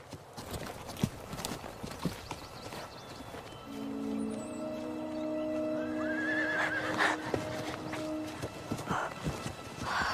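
Horses whinny loudly over a steady clip-clop of hooves, with a long drawn-out neigh in the middle and a general outdoor bustle.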